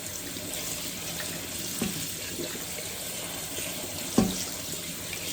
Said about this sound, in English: The water runs over it and it drains off.